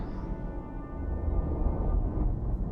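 A low synthesized rumble from the CsoundMeta music software, a dense, steady drone sitting deep in the bass with a faint higher hum. It holds for under three seconds at even loudness, with no voices.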